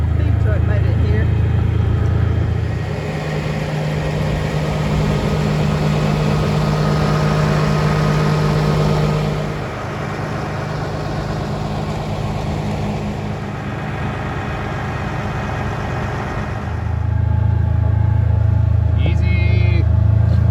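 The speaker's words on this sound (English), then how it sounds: "Feed truck made it here." A feed truck arrives at a farm pasture, its engine a loud, low idling rumble that swells, eases off through the middle and then surges again as it pulls in, with voices heard over it.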